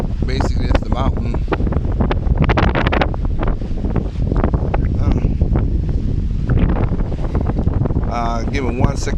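Heavy wind buffeting a microphone on the windy north side of an island, a constant low rumble with gusty thumps, while a person talks through it.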